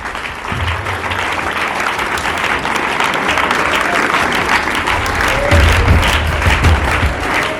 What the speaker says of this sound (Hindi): उसके लिए जोरदार तालियां हो जाएं।